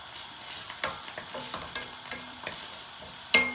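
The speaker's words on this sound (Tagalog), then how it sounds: "Isosote lang natin siya hanggang medyo golden brown na siya." Garlic sautéing in a pan, a soft sizzle under repeated scrapes and clinks of a utensil stirring at irregular intervals, close and moderately quiet, with no talking.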